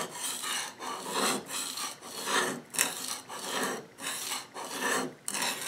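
A hand plane blade is honed on a sharpening stone, a close, rhythmic rasping with about a dozen even back-and-forth strokes and brief pauses between them.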